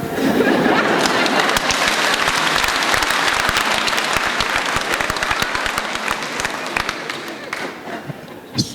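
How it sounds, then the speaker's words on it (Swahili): A church congregation at a parish inauguration in Kahawa breaks into sustained, loud applause, dense clapping filling the space and fading slightly toward the end. "Why did you clap?"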